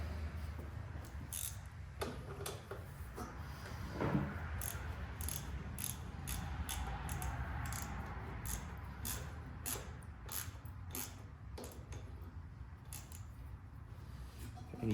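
A wrench ratchets as a housing on a tractor is tightened down to squeeze its O-rings, giving a string of sharp, irregular clicks over a steady low hum.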